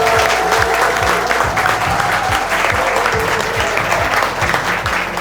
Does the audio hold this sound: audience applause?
yes